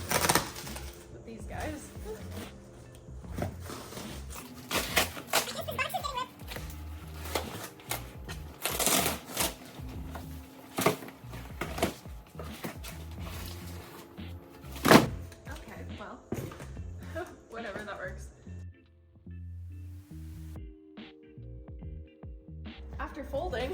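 Cardboard packaging boxes are folded by hand in a small-business warehouse: a close, busy run of crisp creasing snaps, flaps thumping and papery rustles in irregular bursts, with occasional talk between them.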